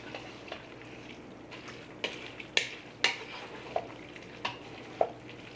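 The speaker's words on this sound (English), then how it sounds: "dump in my drained noodles, and then give this a really good stir" Drained noodles are stirred into gluten-free teriyaki chicken in a pan, making a soft, quiet sizzle broken by several sharp utensil clinks and scrapes against the pan at irregular intervals.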